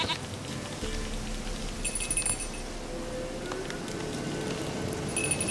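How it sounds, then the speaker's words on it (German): A goat bleats in The Witcher 3 over a steady outdoor ambience with faint metallic clinks, the calls short and moderately close, with no talk over them. "Komm, Ziege."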